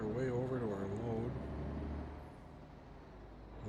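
A modded truck engine in American Truck Simulator idles and rumbles low and steady, with a wavering tonal note early on that fades, then a quieter hum as a voice speaks over it.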